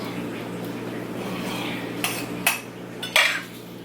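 Birria meat going into a crockpot: a few clinking, scraping utensil-and-pot sounds over a low steady kitchen hum, the sharpest knocks near the end.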